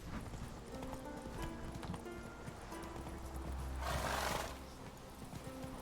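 Horse hooves clip-clopping in a video game as the rider's horse trots and jumps, with a whinny and a burst of noise partway through, steady and fairly close under faint background sound.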